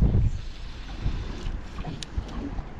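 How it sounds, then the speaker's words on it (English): Wind gusts across a lake, a low rumbling buffet against the microphone with faint water lapping, steady through a short stretch. "I say as the wind just picks up."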